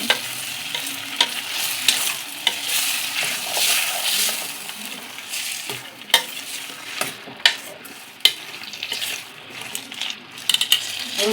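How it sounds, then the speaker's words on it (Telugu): Fried drumsticks and tomatoes stirred in hot oil for egg drumstick curry, a loud continuous sizzle with sharp metallic clinks of the spoon against the pan scattered throughout. "మునక్కాయలు టమాటాలు బాగా ఆయిల్ ఫ్రై అయిన తర్వాత కలుపుకొని మగ్గనిచ్చుకోవాలి."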